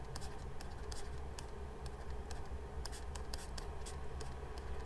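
A pen or marker dragging with difficulty across a writing surface during a statistics lesson, producing faint scratchy strokes in an irregular rhythm over a low steady background hum.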